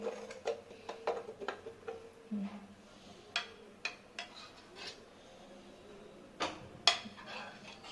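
A spoon stirring tender coconut water in a cup for a chia seed drink, with light scattered clinks and scraping taps, some quick and close together, the rest spread out, and soft talk underneath.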